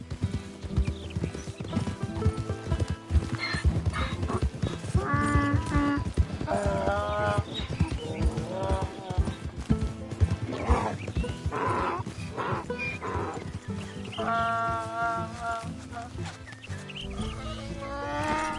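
In Red Dead Redemption 2, hooves clop steadily while a donkey repeatedly brays with loud, wheezing, see-sawing calls over a busy game soundscape.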